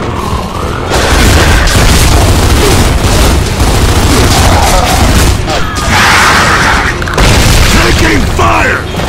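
Gunfire and explosions fill a loud Xbox 360 Gears of War 2 battle, with dense rumbling booms and rattling bursts running almost continuously. Game voices shout over the din.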